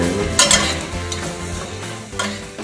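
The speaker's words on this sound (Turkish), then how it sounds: "Soğanlarım da güzel güzel orada yumuşuyor. Şimdi patatesleri de ekliyorum" Potatoes tumble into a pot of softening onions, giving a steady close sizzle of frying with stirring scrapes and a couple of louder clattering bursts as the pieces go in.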